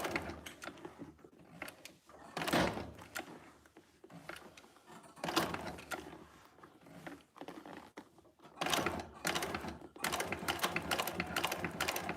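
A sewing machine stitches leather in a leather bag maker's studio, running in short mechanical bursts of a few stitches with pauses between, fairly close and moderately loud.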